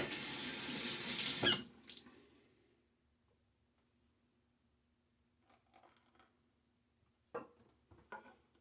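Water gushes from a tap for a moment, then shuts off, followed by quiet and a few small clinks and taps.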